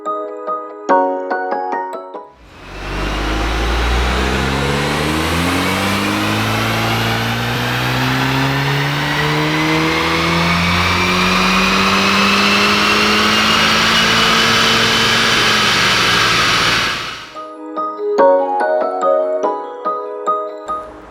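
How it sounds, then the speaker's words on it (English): A Volkswagen Golf R on a dyno makes a loud baseline run, its engine climbing steadily in pitch through the gears for about fifteen seconds before cutting off abruptly. "we've had the Golf R on the dyno this morning to take some baseline one road runs"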